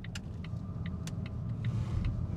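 Cabin sound of a 2019 Volvo XC60 2.0 D5 PowerPulse AWD diesel with automatic gearbox driving on a road: a steady low engine and road rumble, fairly quiet, with faint regular ticking over it.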